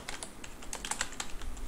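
Quick, close clatter of someone typing code on a computer keyboard, a dense irregular run of light key clicks with no voices.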